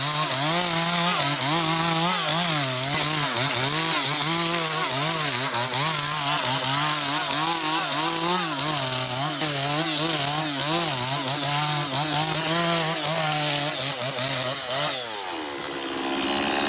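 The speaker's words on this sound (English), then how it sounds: "The peeling and planing apparatus is an incredibly effective and useful tool. With it, you can quickly and efficiently peel a log" A log peeling and planing machine runs steadily on wood, a loud continuous motor whine with wavering harmonics and a scraping, rasping edge, winding down near the end.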